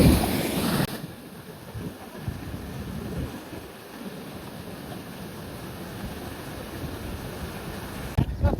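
Floodwater from an overflowing lake pours heavily down a waterfall, making a loud, steady roaring rush that continues without pause and stays close and dense throughout.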